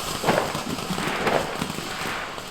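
A firework bursts on Bonfire Night in a back garden, giving a loud, crackling, spitting sound that comes in a couple of swells over about two seconds, close by.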